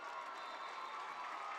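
A homecoming football crowd in the stands cheers a kickoff return with a steady, distant roar of voices and applause, fairly faint and unbroken.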